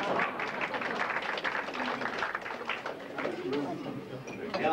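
Audience applause at a 1993 seventieth birthday celebration for actress Herdís Thorvaldsdóttir, a dense, steady patter of many hands filling the room, with voices mixed in.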